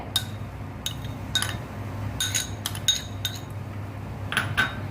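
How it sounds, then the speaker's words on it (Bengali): Cucumber, onion and yogurt are mixed for raita with a spoon, giving scattered sharp clinks and taps against the bowl over a quiet room hum. "দইয়ের মধ্যে সব উপকরণগুলো একটা একটা করে মিশিয়ে নিচ্ছি"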